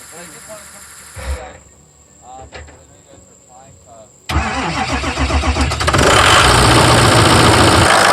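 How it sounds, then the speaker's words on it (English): A Ford 6.0 Powerstroke diesel truck, freshly fitted with a new alternator and jumped with a battery pack and booster cables, cranks briefly and fires up, then settles into a loud, steady close-up idle after a quieter stretch with faint voices. "Let's go and try to fire it up."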